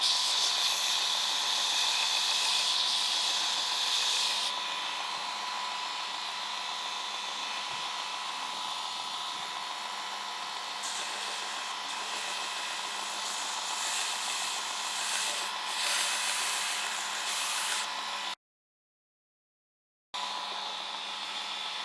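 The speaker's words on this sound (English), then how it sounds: "Next thing I'm going to do is to grind my first plunge line where it's going to finish" A Shop Master 72-inch belt grinder grinds the plunge line on a knife blade, a steady loud high-pitched abrasive whine that runs unbroken for about eighteen seconds, then cuts out abruptly before resuming briefly.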